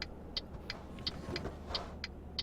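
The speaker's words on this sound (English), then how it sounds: "if you go, you hear that little kind of electric motor truck" Faint, steady hum of the electric motor in a Mercedes-Benz New Actros truck from Euro Truck Simulator 2, with soft ticking clicks repeating at regular intervals over the low drone.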